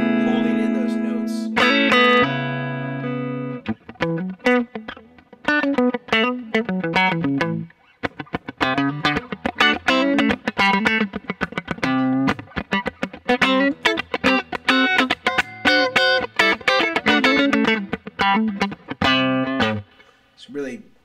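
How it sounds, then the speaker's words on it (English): Electric guitar played through a DBX-style studio compressor pedal, a sustained chord opening into a busy run of plucked notes and riffs, evenly held and compressed, loud and close with no talking. "I think that this is the one of the best sounding compressors."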